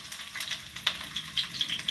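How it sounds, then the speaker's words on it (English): Onions hit a hot frying pan and set off a steady, close sizzle with scattered sharp crackles and pops, and no one speaks. "let's turn some heat up in this frying pan. So I'm going to add some onions."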